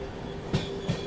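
Freight train led by a WAG12 electric locomotive crossing at a station, heard as two short clanks of wheels over rail joints against a steady rumbling background, no voices.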